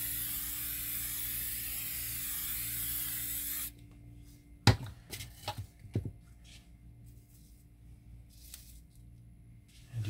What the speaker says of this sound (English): Let me just put a little bit more hairspray on top of it